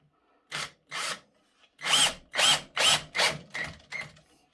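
Close, loud bursts of a power drill boring pilot holes into wood, eight short pulses in two groups with brief pauses between, no talking.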